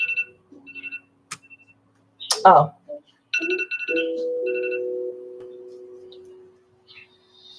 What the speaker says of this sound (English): I hear my phone.